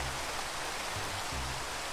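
Rain falling in the Minecraft video game, a steady even hiss of dense drops with a faint low hum underneath, constant throughout and without voices.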